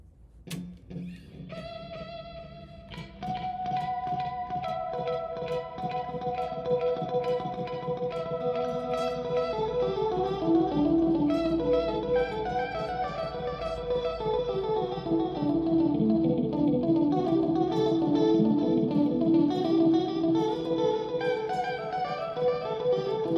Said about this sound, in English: So I have the vibrato in scene 2.